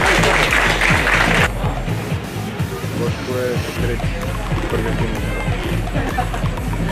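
Applause at a national bench press championship, a dense burst of clapping that drops off quickly, followed by a noisy crowd with scattered claps and voices.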